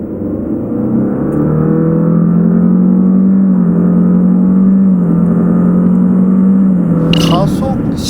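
A Nissan Murano Hybrid accelerates with a sustained engine drone that rises gradually in pitch and stays loud and close throughout, ending in a brief clatter.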